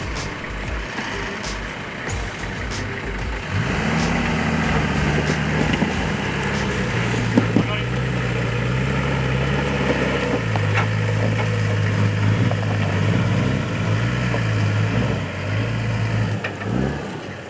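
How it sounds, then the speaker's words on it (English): A Nissan Patrol 4WD grinds uphill out of a rough track in the Bendleby Ranges, its engine droning and rising in pitch under load, with a steady mechanical roar and a few knocks over the terrain. "Halfway up, and Nick's found some traction and should be able to drive out from here"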